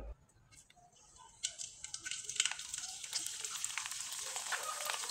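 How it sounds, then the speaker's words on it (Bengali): Sabudana pitha frying in oil over low heat, a soft steady sizzle that swells in after a quiet start and holds as a gentle crackling hiss, close by with no talk. "এবার কয়েকটা পিঠা আমি আপনাদের ভেজে দেখিয়ে দিচ্ছি।"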